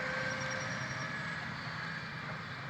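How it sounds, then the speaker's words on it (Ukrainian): A tractor engine drones steadily across farm fields in Denmark in spring as the land is being fertilised. The rumble is continuous and moderately distant, with a thin tonal whine above it and no talking. "А ось трактори їхні."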